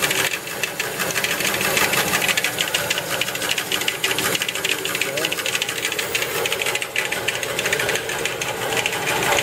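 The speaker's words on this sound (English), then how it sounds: "The blade is hitting this plastic guide right here." Jet 414504 vertical band saw running with its blade slapping against a plastic guide, a steady loud mechanical clatter and hiss that continues throughout.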